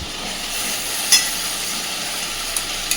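Masala sizzles and hisses steadily in hot oil in a pan while being stirred for a pointed gourd and prawn curry, with a sharp scrape or two. The sound is close and fairly loud, with no talking.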